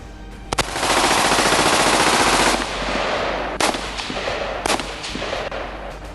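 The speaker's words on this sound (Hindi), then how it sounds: "मिशन स्टार्ट होने से 7 घंटे पहले ही गोलियां चलने की आवाज़ आने लगी।" Loud bursts of gunfire in an Indian Army documentary: a sustained rapid machine-gun volley, then several separate sharp shots echoing afterward.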